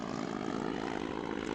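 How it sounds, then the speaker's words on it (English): A propeller aeroplane drones steadily in flight as a sound effect, with an even, continuous engine hum holding at moderate loudness throughout, no voices over it. "It didn't take long for Mummy Pig to get the hang of aeroplane flying."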